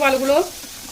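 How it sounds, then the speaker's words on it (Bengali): Hot oil sizzles steadily in a pan while eggs fry for a home-cooked biryani, a short burst of voice at the very start before the crackle continues alone. "ডিম তিনটে ভাজা করে নেবো ওই তেলে"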